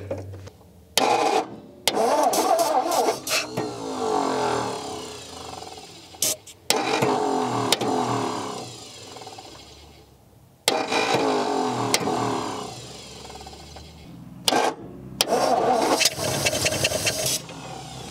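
An old Ford flathead V8, forgotten for 42 years, cranks and catches several times, running in uneven bursts with stops between them, loud and close.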